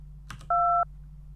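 A single short two-tone telephone keypad beep sounds during an automated phone survey, clear and steady for about a third of a second after a faint click, over a low line hum.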